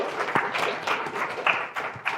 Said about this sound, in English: Sahil, please give me a round of applause, please.